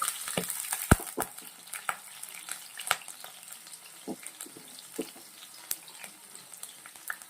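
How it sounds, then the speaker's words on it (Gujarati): Garlic and green chillies frying in hot oil for spring roll filling, a continuous crackling sizzle with scattered sharp pops and a few stirring knocks, close and fairly loud. "આપણું તેલ ગરમ થઈ ગયું છે। હવે અંદર લસણ અને તીખા મરચાં એડ કરી દઈશું।"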